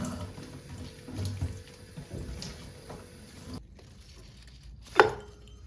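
A Calathea makoyana houseplant being watered indoors: a soft, steady trickle of water running for a few seconds, followed by a brief quiet and a short sharp splash or clink.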